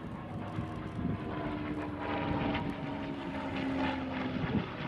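A P-51 Mustang propeller fighter at an air force open day gives a steady, moderately distant engine drone with a thin sustained whistle running through it, rising slightly toward the end, with no voices.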